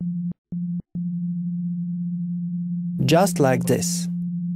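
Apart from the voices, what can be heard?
sine wave test tone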